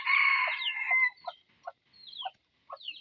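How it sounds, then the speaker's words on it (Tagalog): A crossbred native chicken and labuyo rooster clucks in a few short, close bursts, and a longer call opens the sequence, with quiet gaps between the clucks. "ito naman yung na crossbreed native at saka aboyo"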